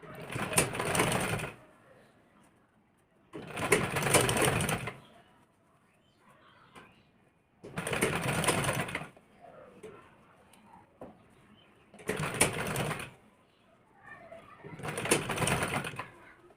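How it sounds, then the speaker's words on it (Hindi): A sewing machine runs stitching along the edge of a blouse's back piece, in five loud, close bursts of rapid whirring, each lasting a second or two, with quiet gaps between them. "इसको ऐसे सिलाई मार लेंगे किनारे किनारे पे बिल्कुल"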